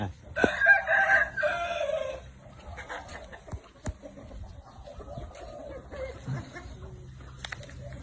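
A rooster crows loudly and close by as a chicken approaches, followed by scattered clucking and farmyard noises with faint talk in the background.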